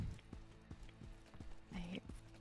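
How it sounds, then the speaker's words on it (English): Footsteps in the video game Midnight Ghost Hunt thud in a steady, even rhythm at moderate volume, with a brief tonal game sound rising partway through. "I hear footsteps"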